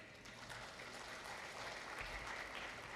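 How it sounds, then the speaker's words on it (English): Newly inducted dental college students applaud together in a hall, a soft, continuous wash of many hands clapping at a distance, steady and even throughout. "You can give a round of applause for yourself"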